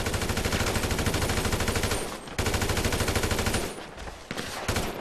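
Rapid automatic gunfire rattles in a GTA 5 deathmatch. It is loud and sustained, with near-continuous bursts broken by two brief pauses.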